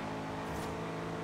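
Porsche 918 Spyder engine in the racing game Forza Horizon 2, a steady loud mechanical drone with strong harmonic tones, continuous and close throughout without talk.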